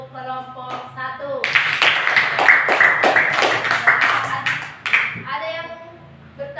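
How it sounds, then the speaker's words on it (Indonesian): A classroom of students claps loudly for group 1 after its presentation, a burst of brisk applause lasting a few seconds, with a teacher talking before and after. "Ayo tepuk tangannya untuk kelompok 1"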